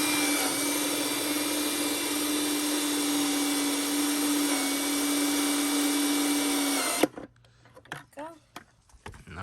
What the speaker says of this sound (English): you're gonna drill in the center line or maybe a little higher